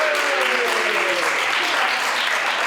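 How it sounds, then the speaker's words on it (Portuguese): A live audience claps steadily for a debate team at a rhetoric tournament semifinal, dense sustained applause throughout with a voice talking faintly underneath. "Uma grande salva de palmas para eles, por favor."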